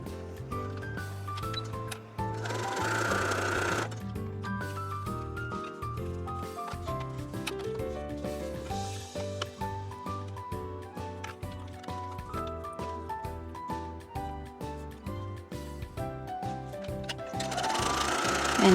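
A sewing machine runs in long continuous bursts, stitching a quarter-inch seam along fabric strips for a Dresden quilt block, its rapid mechanical chatter loud and close with brief pauses between runs.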